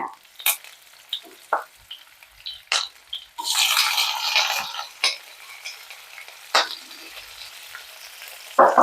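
Tomato, shallots, ginger, garlic and curry leaves sautéing in a pan, with intermittent spoon clinks and scrapes over a soft sizzle and one longer burst of frying hiss, close up, no voices.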